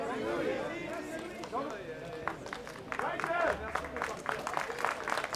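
Photographers applaud an actor at the Cannes 2017 photocall, with scattered clapping, a bustle of movement and chatter from the press pit, all under close speech.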